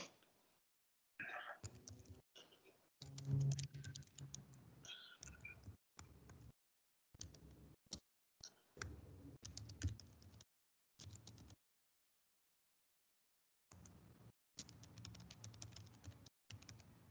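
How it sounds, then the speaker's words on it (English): Computer keyboard typing in a quiet office setting, heard as close bursts of rapid key clicks separated by short pauses and silent gaps. "so you guys can keep on typing if you want."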